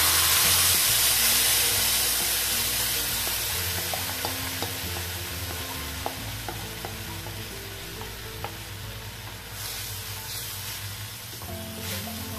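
Tamarind pulp poured into a hot tempering of cumin and asafoetida bursts into a loud, hissing sizzle that slowly settles into steady bubbling frying, with a few small clicks of stirring.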